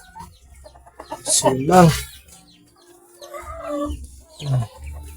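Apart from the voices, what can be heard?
Rhode Island Red chickens clucking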